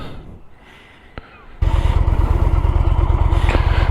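Motorcycle engine catching after a brief click, then settling into a loud, steady idle rumble that continues close by to the end, with quieter background noise before the start.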